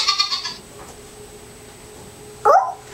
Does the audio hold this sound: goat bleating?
yes